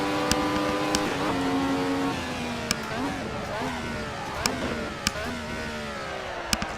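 A Ferrari 312T race car in Assetto Corsa screams around the Nürburgring GP circuit, its engine rising and falling through sharp gear changes with crisp upshift clicks, loud and close under a talking voice.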